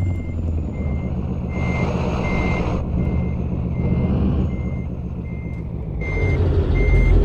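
A truck backing up in American Truck Simulator, with a steady, loud reversing beeper pulsing at an even rhythm over a deep diesel engine rumble and a brief hiss of air.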